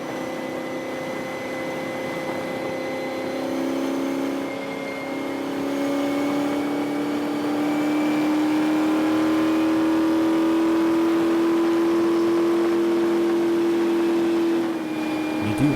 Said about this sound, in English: I would often hit the rev limiter when approaching top speed on the straightaway, which is why you hear the engine sputter and slow down.